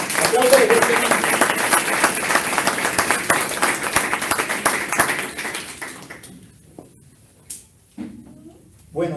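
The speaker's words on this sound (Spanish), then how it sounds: "Den un aplauso a Jesús que está aprendiendo en esta hora" A church congregation claps together in a dense burst of applause for about six seconds. It then stops abruptly, leaving a quieter room with a few scattered knocks and thumps.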